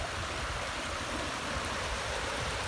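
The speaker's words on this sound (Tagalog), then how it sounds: "ang ganda ng lagaslas ng tubig mga idol" Rushing water of the Sampaloc River flows in a steady, full broadband wash, close and continuous throughout with no voices.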